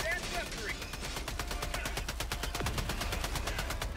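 Rapid machine gun fire in the video game Helldivers 2 rattles on in a long, evenly spaced burst, loud and close, with a voice briefly audible early on.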